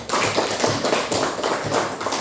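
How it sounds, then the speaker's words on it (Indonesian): Children in a classroom clap their hands together, a dense, steady burst of many small taps and slaps at close range that carries on without a break. "tepuk tangan untuk semuanya"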